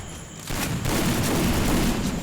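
Rapid bursts of gunfire in a mobile shooter game's 4v4 custom match, a dense continuous fusillade with booming hits, loud and sustained without speech.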